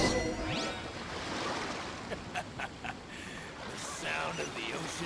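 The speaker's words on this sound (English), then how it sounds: "Sound of the ocean waves." Ocean waves wash continuously in the Genshin Impact video game, a broad hissing surf at moderate distance with slight swells, while voices or game sounds come and go over the top.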